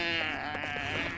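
A goat-like creature in the video game Clash: Artifacts of Chaos gives a single drawn-out, wavering bleat, fairly close, with a bit of background noise.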